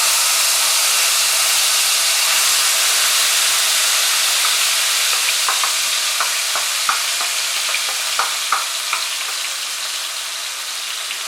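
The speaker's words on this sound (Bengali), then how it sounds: "মাঝারি আঁচে পেঁয়াজটাকে ফ্রাই করতে হবে" Onion paste fries in about four tablespoons of oil in a wok over medium heat, making a constant loud hiss and sizzle with scattered small pops and spatters.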